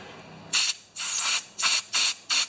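Fluid sprays out of a part on a Craftsman EZ Walk mower in five short, loud hissing bursts of uneven length, separated by brief near-silent pauses.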